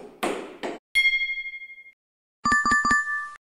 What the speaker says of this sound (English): Sound is pinging a glass.